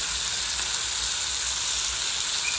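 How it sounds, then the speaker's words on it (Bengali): Loud, constant sizzling of chicken frying in a pan, a dense crackling hiss with faint scraping from stirring, no voices. "এবার একটু ভালো করে নেড়ে নেব যাতে সব কিছু ভালোভাবে একটু ভাজা হয়"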